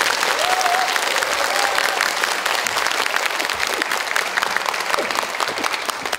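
Sustained audience applause filling a hall after a school-violence prevention lecture by Pyo Chang-won, dense steady clapping from a large crowd for several seconds with a faint voice briefly heard underneath.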